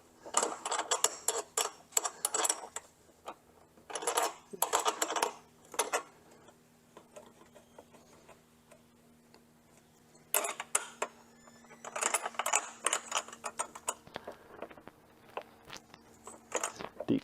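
Wrench tightening the 10mm battery terminal nut on a third-generation Honda Pilot, heard as bursts of quick metallic ratcheting clicks separated by short pauses, fairly close and with no talking.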